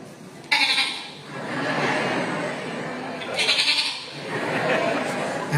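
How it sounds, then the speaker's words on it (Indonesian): A goat bleats twice, loud and drawn out, with a few seconds between the calls. "Kambing."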